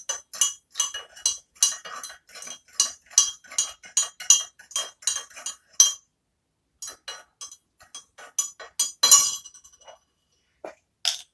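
A spoon clinks steadily against a bowl while stirring bread dough ingredients, quick rhythmic taps in bursts with a short pause, close and clear with no talk.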